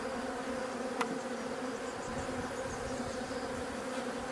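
Honeybees buzzing at a hive, a dense steady drone with no pauses, close and moderately loud, with one faint click early on.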